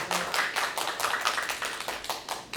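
Audience at the 10th Amgok academic award ceremony and special lecture clapping in a fairly small, clear burst of distinct hand claps with a quick, slightly uneven rhythm, close and moderately loud, with no talking.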